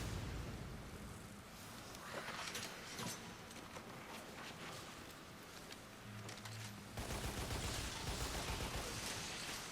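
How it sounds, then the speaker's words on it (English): Rocket launcher blasts and explosions in the Lost Planet video game: dense, noisy bursts of gunfire and blasts that shift abruptly near the end into a louder, steadier roar, with no voices. "Let's try to use the rocket launcher here."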